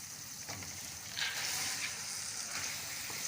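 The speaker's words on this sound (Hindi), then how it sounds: "इसको अच्छी तरह से तकरीबन हम 10 मिनट जो है वो इसकी भुनाई करेंगे फलियों की।" Green beans sizzle in a pan with softened tomatoes, salt and chili for a chicken and bean curry. A close, steady frying hiss swells in bursts as the beans are stirred.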